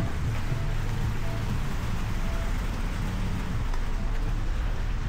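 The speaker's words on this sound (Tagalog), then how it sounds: "Malakas na naman yung ulan." Heavy rain pours steadily in New Zealand, a dense, constant hiss with low rumbling underneath, loud and unbroken, with no talking.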